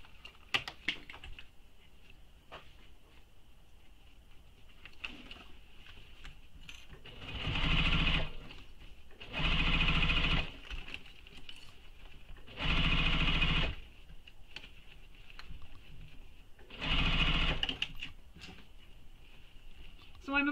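A sewing machine stitches a shoulder bag near a strap connector in four loud bursts of about a second each, separated by quieter handling sounds and soft rustling.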